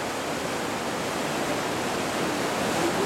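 Whitewater rapids on Red Creek roar in a steady, loud, unbroken rush of churning water, heard up close from a canoe run with no voices over it.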